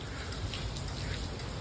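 Heavy rain pours down outside an apartment building, a dense, unbroken roar of hiss that stays level from start to finish with no voices.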